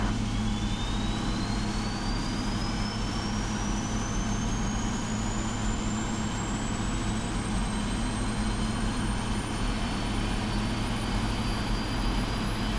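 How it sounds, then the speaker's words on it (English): A GE90-115B turbofan on a Boeing 777-300ER spools up during engine start in the PMDG 777 flight simulator, with a steady roar and a thin whine that climbs slowly in pitch over about thirteen seconds, with no talk. "they've redone the GE90 115B sounds as well, which is this engine type"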